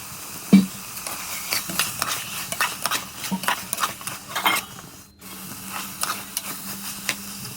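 Vegetables being tossed with salt in an oily pan for brinji rice: a busy run of light clicks and scrapes from a ladle against the pan over a soft sizzle, with one sharper knock early on.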